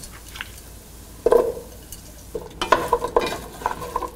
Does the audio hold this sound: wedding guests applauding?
no